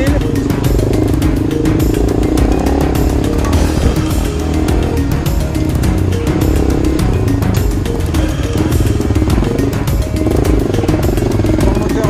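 A Yamaha XTZ 660 motorcycle's single-cylinder engine runs loud and close, a steady throbbing chug with rhythmic mechanical clatter that holds even for twelve seconds without a break.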